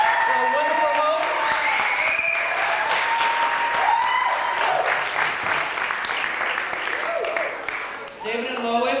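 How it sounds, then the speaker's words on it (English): Wedding guests clap warmly for their hosts, a sustained burst of applause with a few whoops and voices mixed in, tapering off near the end. "Can you please have a round of applause for our wonderful hosts?"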